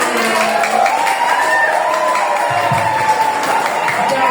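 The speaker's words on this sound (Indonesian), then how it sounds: "tepuk tangan dulu, tepuk tangan" Audience of children at an anti-smoking and drug awareness talk, clapping and cheering as a continuous loud crowd wash, with shouting voices mixed in.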